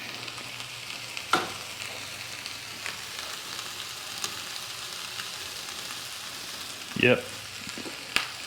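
Grease sizzles in a pan on a portable gas camp stove, a soft steady frying hiss with a few clicks and clatters, under a brief spoken word and a louder clunk near the end.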